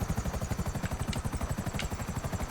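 Akula stealth gunship helicopter in GTA Online, its rotor chopping in a steady rapid thump that runs loud and continuous throughout, with a couple of faint high clicks over it.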